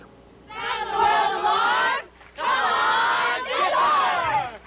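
A crowd of adults and many kids at an outdoor nuclear disarmament rally cheers and roars in three sustained swells, loud and close, with brief dips between them.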